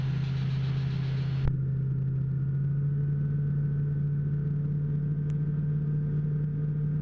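A TL-3000 light sport aircraft engine hums steadily in flight with the throttle pulled back, a low, even drone heard from inside the cabin, with a brief click early on.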